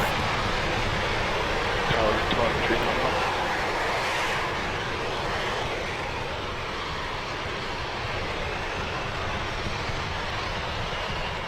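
SpaceX rocket launch with nine Merlin engines firing, a loud continuous broadband roar and rumble that holds steady and fills the whole stretch, heard from a distance without breaks.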